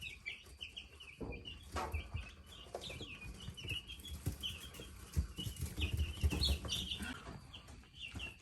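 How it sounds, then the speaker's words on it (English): Several young roosters cluck and squawk in bursts alongside chirping birds, a busy farmyard chorus close by with some rustling. "Probably some little roosters right there trying to show each other off."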